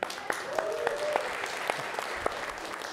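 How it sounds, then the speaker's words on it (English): Audience at an evening church gathering gives a round of applause, dense steady clapping that continues for several seconds, with a faint voice briefly heard over it. "Round of applause for AJ, everybody."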